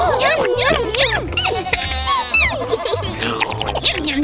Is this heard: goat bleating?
yes